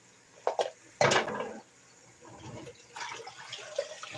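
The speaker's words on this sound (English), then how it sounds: "I need to empty that water out of there so I can make fresh dishwater." Used dishwater poured out of a dish bucket in a home kitchen, splashing in a few short bursts and then trickling and gurgling more softly as it drains away.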